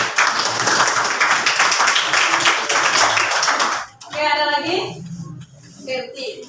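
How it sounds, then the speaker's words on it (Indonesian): Classroom students clap for a classmate in a dense, steady burst of applause lasting several seconds, which then stops as a nearby voice begins speaking. "Kasih tepuk tangan dulu untuk kamu."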